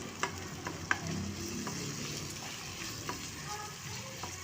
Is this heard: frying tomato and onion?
yes